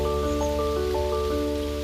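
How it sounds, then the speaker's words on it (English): Raindrops patter steadily on the surface of water along a park trail in Woodstock, Ontario, a continuous close wash of soft drips with no voices. "raindrops was very interesting as it danced on the surface of the water"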